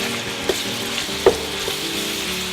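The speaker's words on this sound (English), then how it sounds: "And again, just mix it in." Ingredients are mixed into hot oil in a pan, a continuous close sizzle broken by a few sharp knocks and scrapes of the utensil; no voices.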